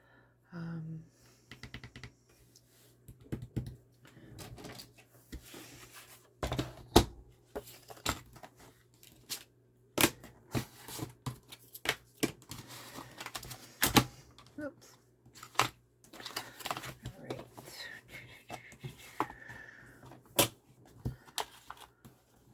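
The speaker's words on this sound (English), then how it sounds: "I'm just going to trim these down" Paper strips being trimmed for a 6x6 scrapbook album, giving sharp, irregular clicks and slicing snaps close by, spread across the clip with short pauses and a low steady hum underneath.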